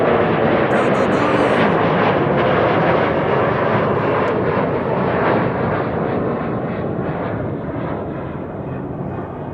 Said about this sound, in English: outbound is going to be taking off from Kaagbaan